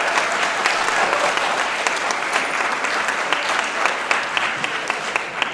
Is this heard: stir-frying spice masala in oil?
no